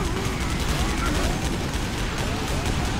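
Dense, continuous gunfire and explosions from a Command & Conquer Generals Zero Hour battle, the USA side with drones and Tomahawks against nuclear China, roaring steadily and loudly throughout with game unit voices mixed in.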